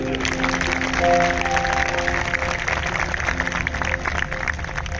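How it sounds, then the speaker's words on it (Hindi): An audience claps at a public gathering, a moderate, continuous patter of many hands heard somewhat distant, with sustained tonal hum or music running underneath the clapping. "मैं चाहता हूं एक बार अपनी उपस्थिति के लिए आप तालियां बजा लें।"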